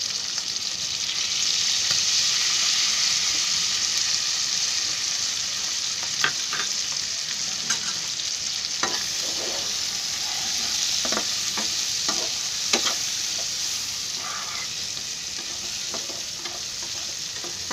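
Crab curry masala with red chilli powder and Konkani red masala fries in a pan under a continuous loud sizzle, with scattered spatula scrapes and stirring clacks throughout.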